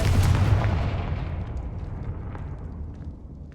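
A Confringo blasting spell explodes in Hogwarts Legacy with one loud, deep boom that rolls off into a long, fading rumble.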